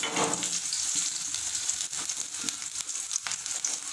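Onions tossed into hot oil with spluttered mustard seeds fry in a pan with a steady, close sizzle. A brief louder burst at the start fades into constant crackling with small stirring taps.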